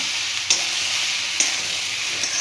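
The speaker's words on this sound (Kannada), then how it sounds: "ಚೆನ್ನಾಗಿ ಈ ಥರ ಮಿಕ್ಸ್ ಮಾಡಬೇಕಿದು. ಅರಶಿನ ಎಲ್ಲ ಕಡೆಗೂ ಬೆಂಡೆಕಾಯಿ ಸೇರಬೇಕಿದೆ." Okra stir-fry with turmeric being mixed in a hot pan, steady close sizzling and frying with a few sharp scrapes of the spoon against the pan at intervals.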